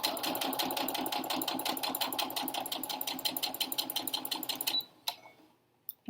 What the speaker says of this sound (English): Do a few back stitches here and sew to the edge of the fabric.